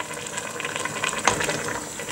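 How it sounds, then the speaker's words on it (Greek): Water pours into a pan of soy mince pasta sauce as it cooks, giving a soft running, splashing trickle with a small bubbling splash partway through. The sound is close but fairly quiet. "αν θέλουμε να έχει πιο πολύ σάλτσα, θα προσθέσουμε νεράκι"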